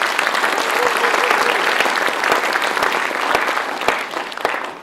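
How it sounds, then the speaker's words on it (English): Audience applause at a BYU Hawaii presentation event for Brother Trevor, steady dense clapping from a crowd that holds through the moment and thins slightly at the end. "let's give him a round of applause"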